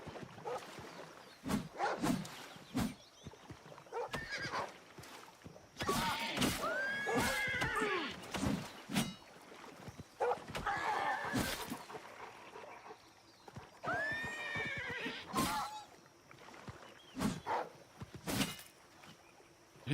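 Repeated loud video game horse whinnies and neighs from an injured horse, with snorts and hoof clops between them, close and prominent.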